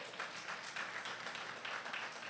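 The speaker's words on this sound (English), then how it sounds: "Give Shane a round of applause." Applause from an audience at a party awards ceremony in Barbados, a steady dense wash of clapping held at a distant, moderate level for a couple of seconds.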